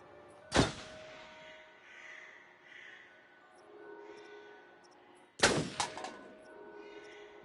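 Two sharp, loud gunshots in Until Dawn, spaced several seconds apart, each with a brief ringing tail over a quiet, eerie background.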